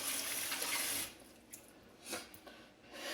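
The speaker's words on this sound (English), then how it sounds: "Rinse my hands off." Tap water running over hands for about a second, a steady hiss that then stops, followed by a few soft splashes and drips.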